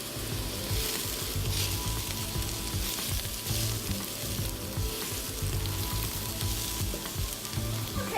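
Onions and garlic fry in a pan with a dense, loud, continuous sizzle and crackle that holds steady throughout, close by, with no voices.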